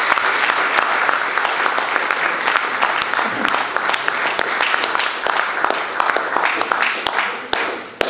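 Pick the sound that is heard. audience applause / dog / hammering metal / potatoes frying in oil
audience applause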